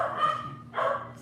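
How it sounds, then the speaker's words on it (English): A dog gives two short barks about half a second apart, moderately close and fairly loud, with no talking over them. "Somebody's barking."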